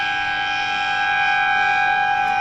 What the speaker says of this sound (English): And the longest siren in the history of mankind brings the first quarter to an end.